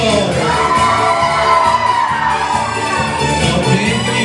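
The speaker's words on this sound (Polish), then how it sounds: "I teraz wszystkie panie głośno piszczą." A concert crowd, with women in the audience shrieking and cheering loudly at a live show, a dense sustained roar over the music that continues without a break.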